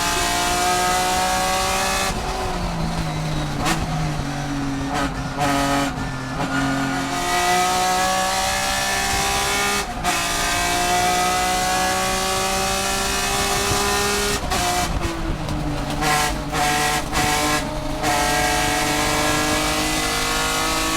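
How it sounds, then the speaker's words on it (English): Race cars including a Corvette and a BMW battling at the SCCA Runoffs, loud engines revving and shifting through gears, pitch rising and dropping as cars accelerate and brake, with several passing in close succession. "the back of the deck lid of Candelaria, but he got to the horsepower of the Corvette and started pulling away"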